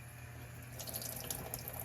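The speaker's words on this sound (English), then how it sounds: "we're now going to rinse the pieces of salmon just with some water" Brined salmon pieces rinsed under running tap water: a steady faucet stream that splashes more audibly once the fish is under it, continuous and close, with no talking.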